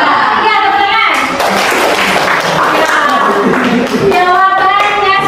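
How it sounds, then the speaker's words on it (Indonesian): Students in a classroom clapping together, a loud, dense patter of hands overlapping with raised voices and chatter around it. "Ya, tepuk tangan"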